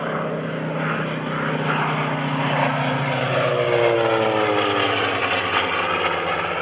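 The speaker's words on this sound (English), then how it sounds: "Here's another pass." A Curtiss SB2C Helldiver propeller dive bomber flies past at an air show open house. Its loud, steady engine drone holds throughout, and the pitch falls gradually as the plane passes.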